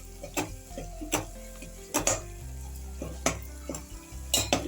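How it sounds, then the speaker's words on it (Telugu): Meal maker masala curry frying in a pan, with steady sizzling broken by repeated sharp clinks and scrapes of a spoon stirring against the pan. "ఇది ఒక్క నిమిషం ఫ్రై చేసుకుని"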